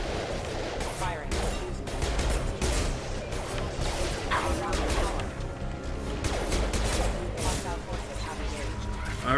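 Gunfire in the Mass Effect 2 video game fills the whole stretch as dense, continuous bursts of shots and impacts, loud and steady, with voices talking over the action.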